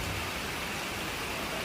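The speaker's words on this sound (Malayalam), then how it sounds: "മഴ തകർത്ത് പെയ്യുന്ന മഴ" Heavy rain pours down steadily, a dense, even hiss that fills the whole moment without a break.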